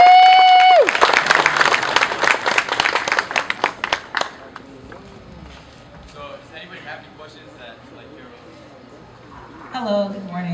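A school alumni breakfast audience claps for an incoming speaker: a dense, loud burst of many hands lasting about three seconds after a brief tone, then thinning into scattered claps and quieter room murmur before a voice starts speaking.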